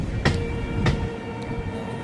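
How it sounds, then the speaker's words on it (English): An Indian Railways train moves along the track near a platform, giving a steady mechanical rumble with two sharp clanks from the wheels or couplings, heard close and loud. "Yet another train is coming from that section."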